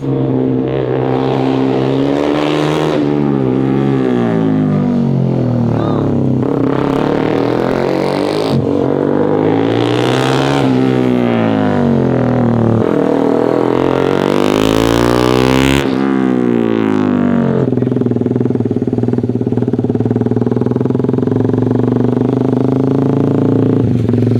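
Track-practice engine revving hard at high RPM, rising and falling in repeated sweeps as gears change, loud and continuous with no talking.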